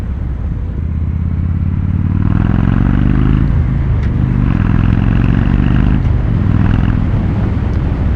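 A 2016 Victory Judge motorcycle fitted with a performance exhaust accelerates at part throttle, its engine rumble loud and steady throughout, climbing in pitch with a couple of brief dips between gears.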